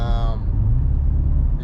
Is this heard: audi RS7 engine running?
yes